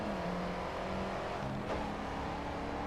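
A car engine in the GRID 2 racing game revs in neutral, a continuous whirring drone that rises and falls in pitch with a brief sharper swell near the end, heard alone.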